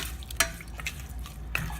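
A utensil scrapes and swirls through a coconut milk gravy with water in a pot, with a couple of sharp clinks against the side over a steady background hum.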